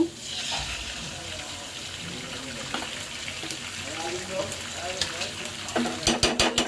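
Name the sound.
egg added to fried onions in a pan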